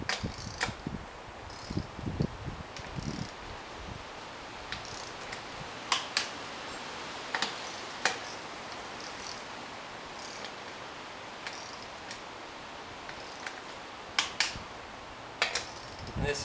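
Ratchet tightening nuts on Hutchinson Rock Monster beadlock wheels, giving scattered clicking bursts and sharp metallic ticks spread through a quiet workshop setting.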